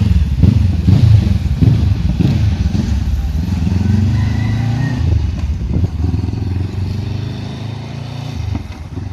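A Honda CB500X motorcycle with a modified, cut-open exhaust revs nearby, its loud, deep, throaty rumble rising and falling in several blips before settling toward idle, with no talking.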